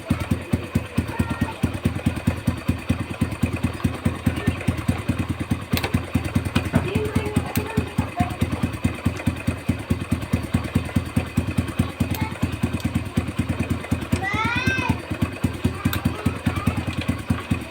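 A motorcycle engine idles steadily nearby with a fast, even putter, and a few faint chirps sound briefly in the background.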